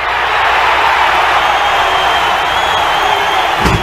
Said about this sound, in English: Crowd is hyped.